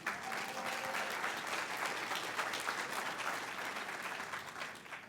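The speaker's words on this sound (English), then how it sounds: "give yourselves a round of applause." Sustained audience applause at a large faith and justice gathering, dense and steady clapping from a big crowd throughout, with no speech over it.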